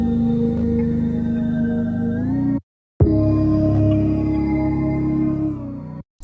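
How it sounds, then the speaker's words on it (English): Two layered 808 bass notes form the highs and mids of an ambient beat, sustained and heavy with rich harmonics, sliding slightly in pitch before a brief gap and a second long note, alone and without voices. "I layered 3 808s from the kit, 2 for highs and mids and 1 for sub, and the highs and mids sound like this"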